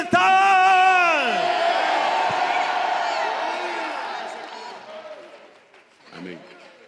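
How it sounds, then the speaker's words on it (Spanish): A church congregation at a retreat lets out one loud, sustained collective shout that swells at once and then slowly fades over several seconds, with scattered voices trailing off at the end. "Un grito fuerte de libertad."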